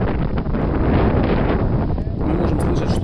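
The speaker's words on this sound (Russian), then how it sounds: "Мы можем слышать, что ветер не слабый." Strong wind gusting at the Mediterranean coast in Netanya, a paragliding spot, roaring steadily and loudly across the microphone for the whole stretch with no pauses.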